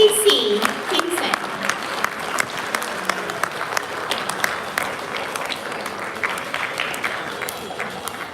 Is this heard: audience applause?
yes